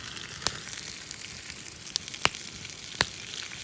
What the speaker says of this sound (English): Fire and oil make more fire.